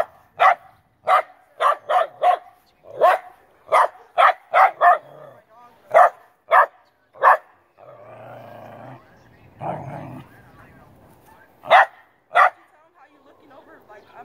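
A dog in a neighbor's yard barks in sharp repeated bursts, loud and close, with a growl and rough noise in the middle, and people talk between the barks.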